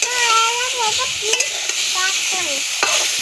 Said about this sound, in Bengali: নুন হলুদ দেওয়া হয়ে গেছে, এইবারে ঢাকা দিয়ে দেবো।